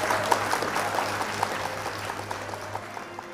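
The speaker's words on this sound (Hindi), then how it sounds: "जोरदार तालियों से इनका इस्तकबाल कीजिए।" A seated audience at a poetry stage event applauds to welcome a performer, sustained even clapping from many hands at moderate loudness, with a low steady hum underneath.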